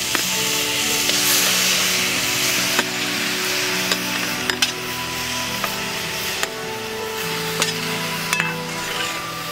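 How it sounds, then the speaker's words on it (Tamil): Mutton sizzles and spatters steadily in a hot pan, with occasional sharp clinks of a utensil against the metal and a faint hum underneath; no talking. "வாணலில் கறியை போட்டுடுறேன்."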